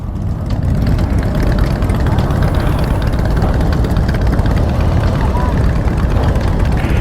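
Harley-Davidson motorcycle engines idle at a crowded bike meet outside a Las Vegas Harley-Davidson dealership, a steady, loud, low rumble that runs unbroken from start to finish with faint voices mixed in.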